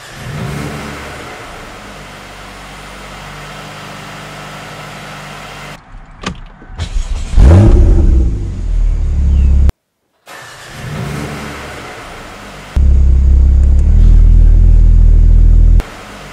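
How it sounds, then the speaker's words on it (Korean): A Mercedes-AMG A35 4MATIC sedan engine idles, then revs hard with a loud burst of exhaust, cuts out briefly, and roars again at high volume. "35는 엔진음은 앞에서 갈갈거리고 배기음은 뒤에서 따로 들리는 느낌입니다."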